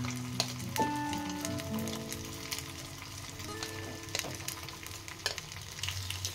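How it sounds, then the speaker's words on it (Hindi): Paneer frying slowly in hot oil in a pan for paneer chilli, a soft continuous sizzle with faint stirring and a few clinks underneath a background tone. "आमे स्लो जाल रे आमे धीरे धीरे पनीर को भाजीबा"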